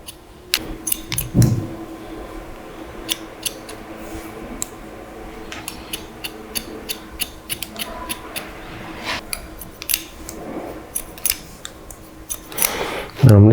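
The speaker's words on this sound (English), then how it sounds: "I'm going to start point cutting into this now." Scissors snipping in quick, irregular bursts while point cutting hair during a haircut, close and crisp clicks scattered over a quiet room.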